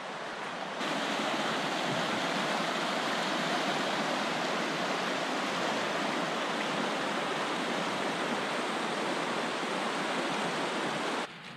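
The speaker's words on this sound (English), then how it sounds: "And down here, a little view of the river." Rushing river water seen from a backcountry campsite on the North Boundary Trail in Jasper, a dense, loud, steady roar that holds unchanged for over ten seconds with no voices.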